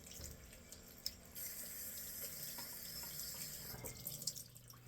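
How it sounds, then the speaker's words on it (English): Water tap running into a sink to rinse a RazoRock Recurve RC100+ razor after a shave, a steady close splash with a few small clinks against the basin, no talking. "let me rinse this off"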